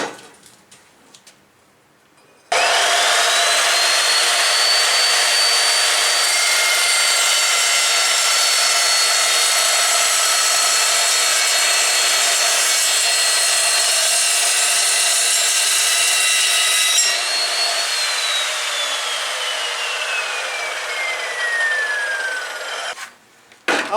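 An Evolution R355CPS 14-inch chop saw with a new blade cuts through 1/8-inch angle iron: a loud, steady grinding roar starts abruptly, holds for about twenty seconds, then the motor whine falls away as the blade spins down.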